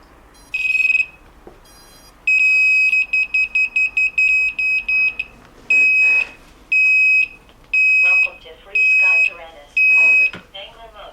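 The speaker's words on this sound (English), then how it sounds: "I don't like that beep beep beep." An FPV quadcopter's electronics give off high-pitched beeps, first one tone, then a fast run of short beeps and slower evenly spaced longer ones, loud and close with faint background noise between.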